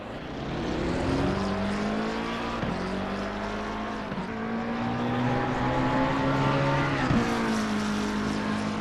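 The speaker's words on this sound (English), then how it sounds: "We're driving the McClaren 720S, and we're just going to see what we can do in this free practice one" McLaren 720S race car in Assetto Corsa Competizione during free practice at Barcelona, engine droning loud and steady with rising pitch through the gears and brief dips at each shift, no talk.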